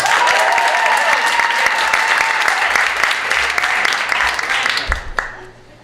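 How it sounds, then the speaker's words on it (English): Audience clapping fills a live storytelling show, a dense sustained applause with a few cheers that holds steady for about five seconds and then fades out quickly. "So clap if you want to hear part two"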